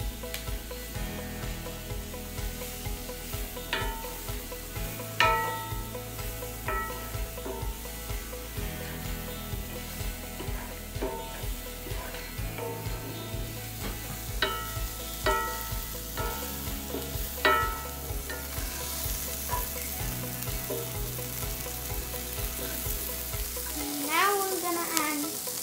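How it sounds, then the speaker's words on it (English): Steady sizzling of shallots frying in a pan, a continuous crackling hiss with occasional stirring scrapes, close and moderately loud. "Oh, that's a big sizzle."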